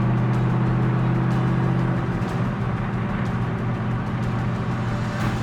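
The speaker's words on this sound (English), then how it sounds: "Yank it back down into third, just because I like how it sounds." A deep Corvette V8 engine rumble that shifts pitch partway through as it downshifts to third gear, then a loud, steady drone with a few sharp clicks over it.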